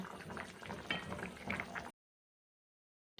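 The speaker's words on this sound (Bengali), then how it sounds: "এরকম ঝোলটা ফুটে গেছে" Fish curry gravy boiling in a pot, a close, soft burble of bubbling liquid that stops abruptly after about two seconds.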